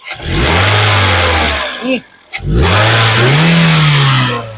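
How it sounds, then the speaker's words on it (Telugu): A 2011 Toyota Corolla Altis G gets its accelerator pressed, with two loud, close revs rising and falling, a short pause between them, and someone speaking over the engine. "ఇంజిన్ యొక్క నాయిస్ చాలా సైలెంట్గా అయితే ఉంది ఒకసారి ఎక్సలేటరీ"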